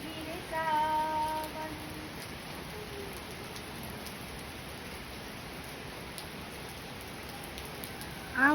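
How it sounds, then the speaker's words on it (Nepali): Rain falling steadily outdoors during a car wash outing, a constant soft hiss of drops that runs on throughout, with faint brief tones early and near the end. "पानी पर्नु थाल्यो हो।"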